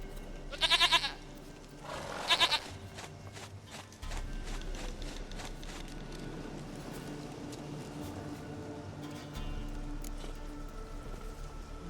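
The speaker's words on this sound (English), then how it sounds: "goat of mine, dearest, sweetest goat." Goat bleating in The Witcher 3, two short loud bleats close together near the start, then a steady low ambient bed of rain and game atmosphere with no voices.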